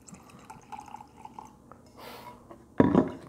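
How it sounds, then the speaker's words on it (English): Crown Royal Peach whisky poured into a glass in a short, loud splashing burst near the end, preceded by quiet handling sounds. "We're gonna pour a little bit in here."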